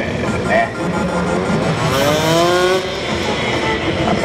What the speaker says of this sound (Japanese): マシンは LSR250 ですね LSR250 で走っております